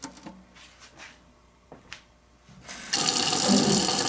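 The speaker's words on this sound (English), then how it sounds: "just need to water that in" Water is poured into the pot of a fig tree cutting. A few soft taps and handling sounds come first, then a sudden steady splashing rush of water fills the last second.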